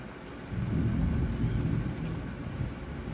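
Steady rain falls with a deep rolling rumble of thunder underneath, a dense, constant storm sound with no voices.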